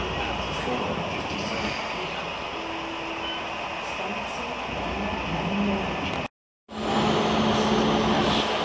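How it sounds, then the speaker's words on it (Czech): A Czech passenger train's steady engine drone and rumbling wheels as it departs toward Beroun, loud and continuous, with a brief cut to silence before the rumble resumes. "Odjíždí osobní vlak směr Beroun."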